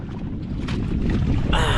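Strong wind gusting at sea aboard a fishing boat, a loud buffeting roar across the microphone with rushing water, ending in a brief harsher blast.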